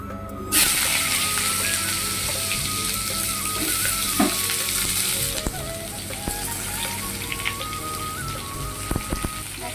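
Panch phoron spices, cumin and drumstick stems hit hot oil with a sudden loud sizzle that stays as a steady, dense crackling hiss, close and continuous, with no talking over it.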